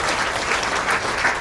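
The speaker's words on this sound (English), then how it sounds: "Yeah, stop clapping." A comedy-club audience claps in a dense, steady burst of applause, continuous for a moment and with no break in the crowd noise.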